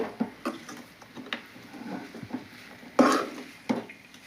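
A spoon stirs a fry of mung dal and ponnaganti greens in a pan, giving scattered scraping and tapping knocks against the metal, with a sharper clack near the end and no voices.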